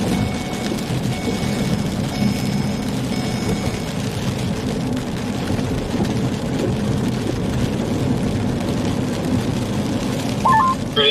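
Steady rain from a thunderstorm shower in Minnesota falls in a dense, continuous hiss with a low rumble underneath, fairly loud and without breaks throughout.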